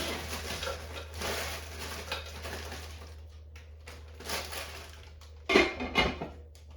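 Carrots from a 12-ounce bag tumble into a crockpot with soft rustling and clattering, a steady low hum behind and a sharper clunk of knocking near the end.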